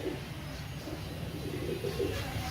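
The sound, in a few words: pigeons cooing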